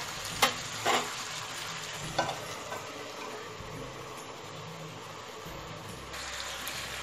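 Masala-coated green chillies cooking covered on a low flame give a steady, quiet sizzle throughout, with a few faint utensil clicks near the start and no talking.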